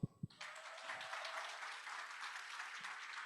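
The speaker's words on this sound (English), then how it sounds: "Give them a huge round of applause" Loud, steady audience applause at an investor conference, many hands clapping and filling the room after a couple of sharp opening thumps.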